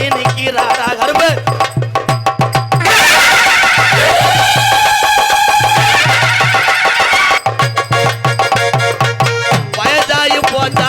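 A horse gives a long, loud, shrill whinny in the middle of a stretch of busy rhythmic music with steady drumming.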